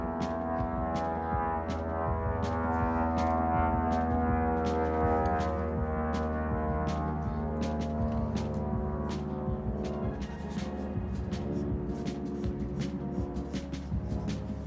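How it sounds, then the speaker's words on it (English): A steady low roar of an aircraft passing overhead fills the whole stretch, a broad drone with a loud, even rumble. "sorry about that airplane"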